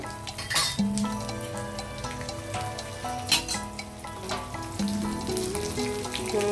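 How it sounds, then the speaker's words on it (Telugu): Dal fries in hot oil for a tempering before cauliflower is added, giving a close, steady sizzle with faint clinks of a utensil against the pan now and then. "ఈ పప్పు కొంచెం వేగిన తర్వాత పోపు దినుసులు వేద్దాము"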